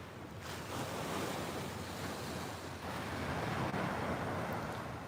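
Ocean waves wash continuously onto a Florida beach, a soft steady roar of surf with some wind noise on the microphone and no voices.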